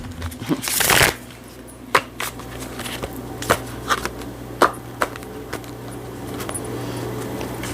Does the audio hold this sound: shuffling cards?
yes